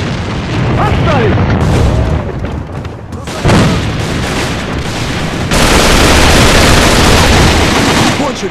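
Grenade blasts and bursts of gunfire in the video game A.V.A fill the scene, loud and continuous, with heavy booms and rattling automatic fire while voices shout commands over the din.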